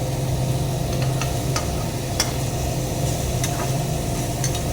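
Masala for a fish curry is being sautéed slowly in a pan, giving a steady low sizzle with soft scraping stir strokes and occasional light clicks, fairly close and continuous without any voices.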